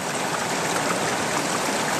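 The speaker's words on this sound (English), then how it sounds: "I'm gonna pan this right back in the hole." Gold panning in a stream, with material sloshed back into the digging hole: a steady, close wash of flowing, splashing water, with no talking.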